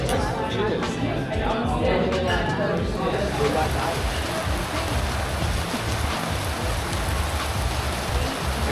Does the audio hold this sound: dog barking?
no